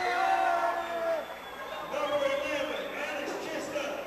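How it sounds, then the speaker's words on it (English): Home crowd at a girls' high school basketball game cheering and whooping in a gym, a mid-distance roar rising and falling beneath an announcer's voice. "You can hear the home crowd being announced here."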